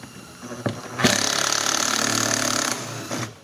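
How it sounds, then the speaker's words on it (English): A 10mm socket tool backing a bolt out of a Dodge Journey rear door panel, a loud, steady buzzing whir lasting under two seconds, set off by a couple of sharp knocks before and after. "Now with a 10mm socket, okay, we're going to remove the bolt."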